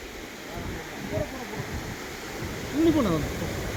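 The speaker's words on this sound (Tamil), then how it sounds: "காட்டுக்குள்ளே வாட்டர் ஃபால்ஸு." Steady rushing of a forest waterfall near Avalanche Lake, Ooty, fills the background while people talk over it, the water's roar constant and close.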